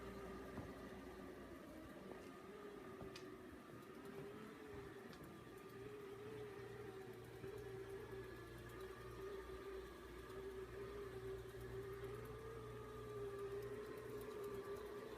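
An Anker RoboVac 10 robotic vacuum cleaner runs at low volume, a steady motor hum and whir with a faint tonal drone, continuous and even throughout, apart from an occasional light tick.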